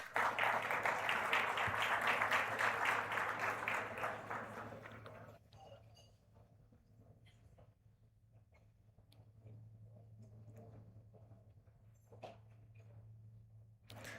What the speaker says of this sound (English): Can you please have a huge round of applause for Ms.